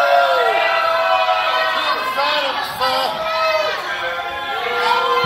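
A wrestling crowd at ACW Proving Ground heckles the ring, loud and close. Many voices shout and jeer together without a break, with single shouts rising out of the crowd noise.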